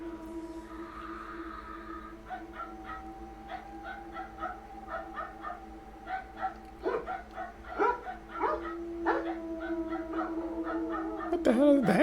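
Repeated short barks and yips from a dog at a distance, irregular and growing busier, over a steady hum with a voice briefly near the end.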